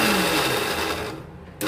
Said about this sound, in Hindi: इस वजह से मैं थोड़ा थोड़ा करके छोटे मिक्सर में ही अपना जो है पीस लूँगी